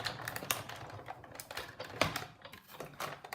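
A manual die-cutting machine feeds cardstock and a die between cutting pads, giving quiet, close, irregular clicks and ratcheting taps from the crank, with no voices.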